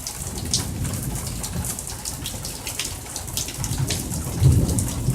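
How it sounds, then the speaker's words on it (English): Steady rain pours during a Central Florida thunderstorm, with a low rumble of distant thunder swelling near the end, no voices present. "this storm is really awesome."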